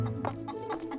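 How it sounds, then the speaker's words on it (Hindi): A cartoon hen clucks in a few quick, short bursts, close and fairly soft, with no talking. "धीरे धीरे मेरी प्यारी मुर्गी"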